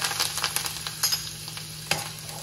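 Besan and spices are stirred in hot oil for Maharashtrian pithla, producing a soft, close sizzle broken by light scraping strokes and a sharper clink near the end.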